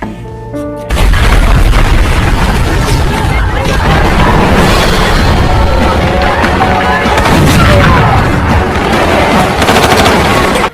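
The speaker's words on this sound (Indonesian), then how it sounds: "Barney langsung meledakkan gedung itu dan terjadilah baku tembak yang sangat seru" A building explosion followed by a heavy gunfight from The Expendables: a deep boom, then dense, continuous bursts of automatic gunfire and blasts, loud and sustained throughout.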